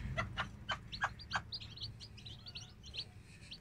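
Newly hatched chicks peep in a rapid, high, busy chorus beside their mother hen, whose few low clucks come early, close and clear.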